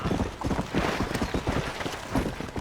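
Horse galloping in the video game Red Dead Redemption, quick rhythmic hoofbeats pounding close and clear for the whole stretch, with no talk.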